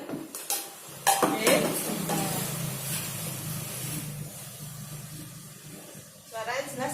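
Ceramic plates struck one after another during a primary-school classroom sound demonstration, giving clattering, ringing clinks that stand out close by against a noisy room, with a teacher's voice around them.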